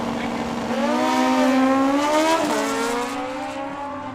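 A 1400cc Kawasaki drag racing motorcycle roars loudly and steadily nearby on a drag strip, its engine note climbing, dipping briefly, then climbing again as it revs hard down the track.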